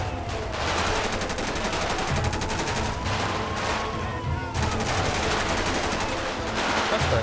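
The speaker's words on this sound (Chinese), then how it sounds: "我听到枪声，然后呢，子弹声也是有打到这个警辅车这一边" Sustained automatic gunfire and scattered shots from a GTA 5 LSPDFR police-mod shootout, bullets striking a police vehicle, loud rapid bursts nearly continuous with a short gap, a voice talking beneath.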